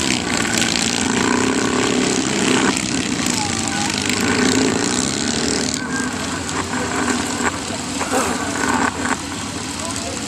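Motorcycle display team bikes riding in formation at an outdoor show, a continuous engine drone that shifts as the bikes pass, heard under an announcer talking over a PA.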